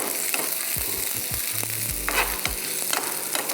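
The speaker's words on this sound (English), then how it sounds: "So you saute your carrots and your onions." Carrots and onions sautéing for a stew, a steady loud sizzle throughout with occasional stirring scrapes and knocks of a utensil in the pan, no voices.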